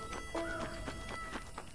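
A horse whinnies and then clip-clops in as it arrives in the video game Red Dead Redemption, a short close neigh followed by a few hoof beats over a low game background.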